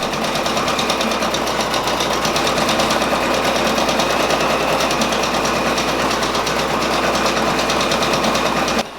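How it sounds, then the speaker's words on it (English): A Brother Persona embroidery machine stitches out a white section of a patch design with a loud, steady, rapid mechanical chatter of needle strokes that runs close and unbroken throughout before stopping abruptly at the end. "so now it's going to do this portion of white right here, and I'm going to try to stand here and hold this camera so you guys can watch this thing stitch out"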